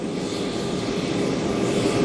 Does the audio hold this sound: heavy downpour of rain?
no